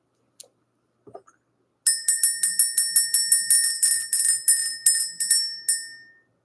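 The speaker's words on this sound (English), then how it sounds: "Let's go ahead and ring the bell." A bell is rung to clear the energy: a quick run of bright, ringing strikes in a steady rhythm, sustained tones ringing on and fading at the end, close and clear with no talk.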